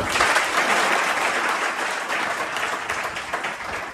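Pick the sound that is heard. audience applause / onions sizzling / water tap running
audience applause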